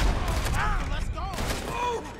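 Gunfire in the video game Red Dead Redemption 2 rings out as a dense shootout of repeated shots under game music and urgent voices.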